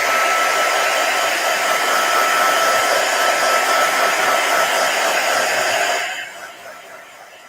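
A heat tool or dryer blows steadily over a stamped pub-themed craft card, a close, loud, continuous whooshing roar that runs for about six seconds before cutting off and fading away, with no talking.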